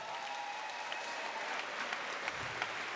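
An audience at an Oktagon MMA event in Brno claps steadily in a dense, continuous round of applause heard from within the crowd, with no talking.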